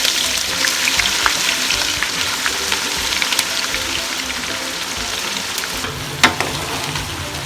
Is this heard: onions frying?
yes